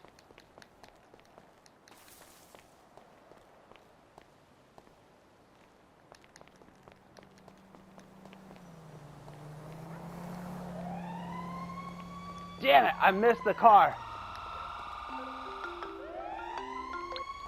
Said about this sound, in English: I hear fire trucks.